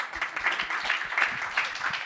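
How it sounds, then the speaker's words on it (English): Brief burst of audience applause at a tech conference in Prague, a dense patter of clapping from a modest crowd heard alone for about two seconds. "big applause for Philip"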